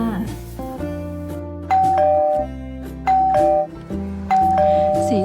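A bright electronic notification bell chimes three times over a steady background music bed, each ding clear and prominent.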